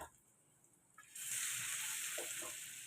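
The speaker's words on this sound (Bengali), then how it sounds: "তেল গরম করতে দিয়েছি, এবার এই বেসনে ডোবাবো আর ভাজবো।" Vegetables dipped in gram flour batter hit hot oil after a quiet second, bursting into a loud, steady sizzle and bubbling that carries on to the end.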